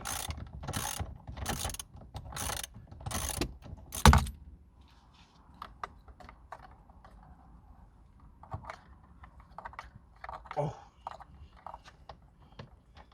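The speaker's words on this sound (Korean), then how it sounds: "볼트가 너무 고착되어 있는, 있었는지 복스대로는 오래 걸려서 라쳇 핸들로 바꿔서 다시 풀어주고 있습니다" A ratchet handle working loose a seized bolt on a Hyundai Avante AD during a cruise control install: about six loud, evenly spaced ratcheting bursts up close, then quieter scattered clicks and handling noises.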